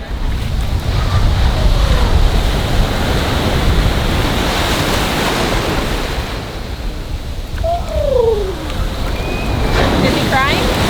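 Rough ocean surf at St. Augustine Beach roars continuously with heavy wind buffeting the microphone, waves churning nearby, while voices speak faintly underneath.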